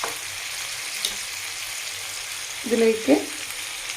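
Grapes being sautéed in a pan for a homemade pickle give a steady soft frying hiss, with a couple of brief stirring scrapes near the end and a short spoken word.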